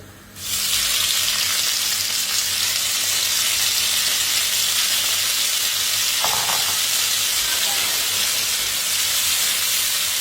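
Halved tomatoes fry in a pan alongside mussels for penne all'arrabbiata, giving a steady, loud, close sizzle and hiss that carries on unbroken from start to finish with no talking.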